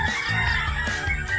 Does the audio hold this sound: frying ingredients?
no